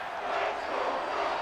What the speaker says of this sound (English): that might be exactly what they needed to wake up this home crowd